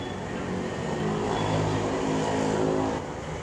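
Heavy engine roar from big motorbikes riding past on a mountain road, a steady loud rumble that swells and fades slightly, with no talking over it.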